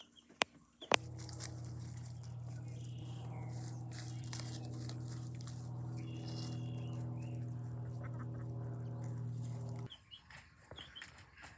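Chickens and roosters cluck and call together in a homestead yard, a steady busy flock chatter lasting about nine seconds and then dropping off suddenly, with a couple of sharp knocks just before it starts.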